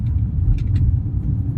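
A car being driven at about 30 km/h just after a shift into third gear, its engine giving a steady low rumble close by with no voices.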